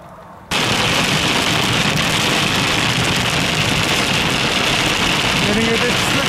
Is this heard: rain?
yes